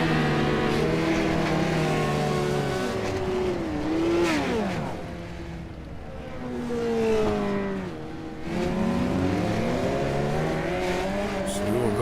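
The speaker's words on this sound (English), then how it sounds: "it's Nicholas Lamb trying to ramp his Legend car here at Kokomo Speedway" Legend race car at Kokomo Speedway, its engine droning with rising and falling harmonic revs as cars pass, loud and continuous with a brief dip in the middle before the roar returns.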